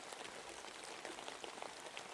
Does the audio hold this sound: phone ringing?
no